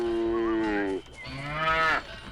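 Two long, loud cow moos from the Spyro: Enter the Dragonfly video game, each a drawn-out bellow with a short gap between them and no talking.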